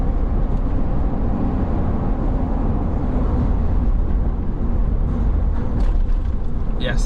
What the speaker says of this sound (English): you can still hear the road noise